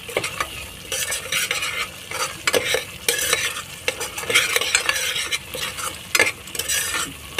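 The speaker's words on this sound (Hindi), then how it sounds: "ये देखिए मेरा प्याज अदरक लहसुन टमाटर और सारे मसाला जो है भून गया है अच्छे से" Onion, ginger, garlic, tomato and spice masala for Delhi-style chole frying in a pan: repeated close scraping and clattering stirs of a spoon over a steady sizzling hiss, with no talking.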